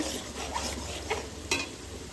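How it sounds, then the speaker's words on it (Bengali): Onions frying into crisp birista for biryani in hot oil, giving a continuous sizzle with a few soft stirring knocks over a short stretch, no talking. "এখানে পেঁয়াজটা বেরেস্তা বানাচ্ছি"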